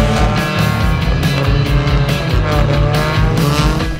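A Cupra TCR race car screams around a track, its engine loud and close with rapid rising and falling revs, gear changes and brief tire squeal, no voices.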